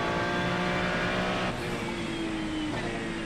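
A Ferrari 296 GT3 engine in a Spa 24-hour racing game holds a loud, steady high-revving whine under heavy throttle, then its pitch sweeps downward as the revs drop.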